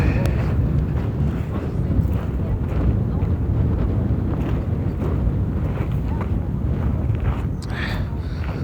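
Cold wind gusting across the volcanic summit of Litlihrutur in Iceland, a steady loud low rumble of wind buffeting the microphone for the whole stretch.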